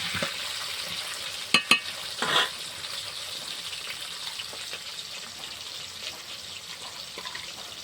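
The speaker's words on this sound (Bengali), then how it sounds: "আলুগুলো একটু লালচে করে আমি ভেজে নেব" Potatoes fry in mustard oil in a pan with a continuous close sizzle, a few sharp utensil clicks and stirring knocks early on, and no talking.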